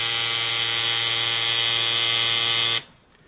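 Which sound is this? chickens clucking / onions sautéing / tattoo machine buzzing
tattoo machine buzzing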